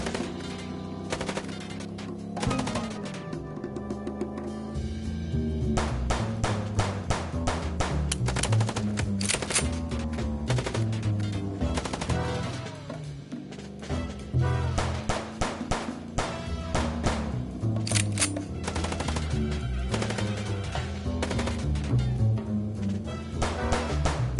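Rapid gunfire bursts in the video game Chicken Police, dense and loud, running continuously and layered with music for the whole stretch.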